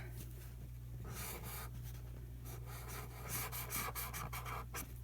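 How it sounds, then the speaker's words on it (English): Black permanent marker drags across a surface coated in wax color paste, a soft steady close-up scratchy rub with brief stroke bursts, faint and alone. "Let's try black permanent marker."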